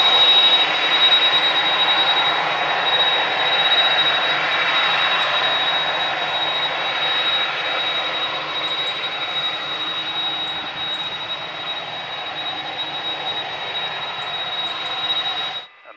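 Jet aircraft engines at Manchester Airport give a steady, loud broadband roar with a sustained high whine, continuous and close throughout.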